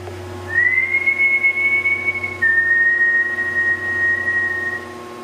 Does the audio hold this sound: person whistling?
yes